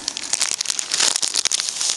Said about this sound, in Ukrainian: використаю ось цей пакетик приправ.